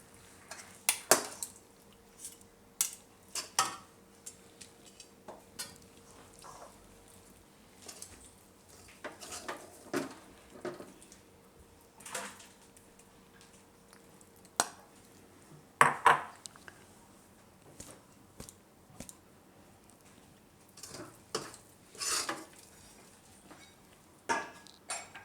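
Sweet wheat khichdo scooped from a pot into a dish, heard as a steady series of close metal spoon scrapes and clinks against the cookware, irregular and fairly quiet over a silent background.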